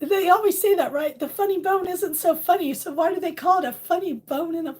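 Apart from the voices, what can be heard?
No everyday noise stands out behind the speech.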